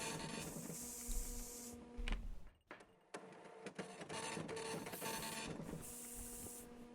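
A money printer in the game Space Station 14 runs like a fax machine, loud mechanical whirring and rhythmic feed clatter in repeated cycles, with a brief pause midway before the printing resumes.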